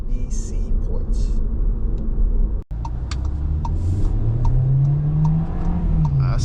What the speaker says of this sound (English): I spun tires a little bit there.